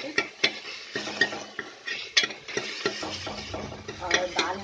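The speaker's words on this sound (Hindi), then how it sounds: "मसाला जो है बिल्कुल फ्राई हो रहा है अच्छे से" Tomatoes and masala frying in a pan for a Bihari-style dish, with repeated sharp spoon-on-pan clinks and scraping over a steady sizzle, close and moderately loud.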